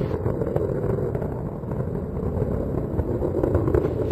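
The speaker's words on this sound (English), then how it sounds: "The engines beginning to throttle back up." Space Shuttle Atlantis main engines roar in a steady, muffled low rumble during launch, continuous and unbroken as heard from a distance, with no voices over it.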